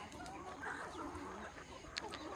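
Free-range chickens on a half-acre open farm area beside a shed, clucking softly and continuously in a busy, low-level flock chatter, with one brief sharper call near the end.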